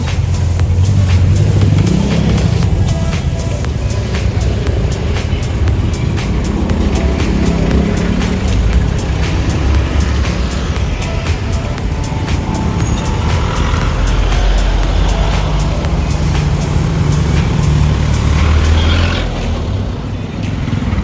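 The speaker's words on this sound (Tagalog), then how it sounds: "there are a bit of a light traffic going on right now" Light street traffic on a city road in Iloilo City, near La Paz Market and Huervana Street, a steady loud wash of passing cars and trucks with engine rumble and tyre noise continuing throughout.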